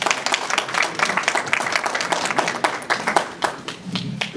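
An audience at a clergy health walk and wellness fair claps for a speaker being introduced, brisk uneven applause with distinct sharp hand claps, fairly close and fading slightly toward the end.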